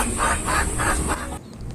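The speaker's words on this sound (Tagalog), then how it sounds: "So yan po ang ingay ng mga selkie hen nyo mga kabakyard pag once ready to breed na ang inyong parisan na hen" A Silkie hen repeatedly calls when ready to breed, giving a quick run of about five rhythmic, clucking notes close by, followed by a quieter pause.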